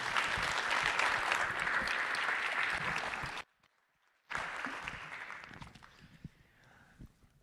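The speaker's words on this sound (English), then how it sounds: "So we're going to applaud you" An awards ceremony audience applauds loudly and steadily, breaks off into a brief silence, then claps again before the applause gradually thins and fades.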